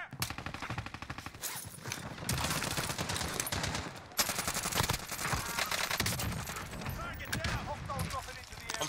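Rapid gunfire bursts crackle almost continuously through a multiplayer shooter firefight, loud and close, with sharp individual shots and a heavy blast near the four-second mark, while excited players call out over the shooting.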